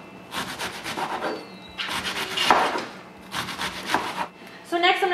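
A knife slices through cabbage for egg rolls on a board in several crunchy bursts of cutting, close and fairly loud, ending with a brief voice.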